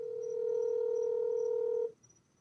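A telephone rings steadily on an outgoing call, one sustained electronic tone lasting nearly two seconds before cutting off into quiet background.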